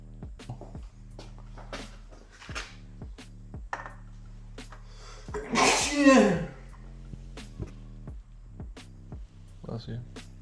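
A single loud, close sneeze rises sharply in the middle of a quiet garage scene during an oil change on a 2025 Honda Civic Si, with faint clicks and clanks from tools and parts around it.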